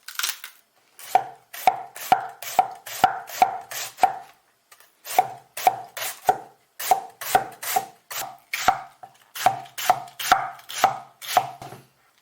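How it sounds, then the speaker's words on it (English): A knife chops cabbage finely and rapidly on a cutting board, crisp evenly spaced strikes in several quick runs separated by brief pauses, close and clear. "start chopping the cabbage. Chop it into very fine particles"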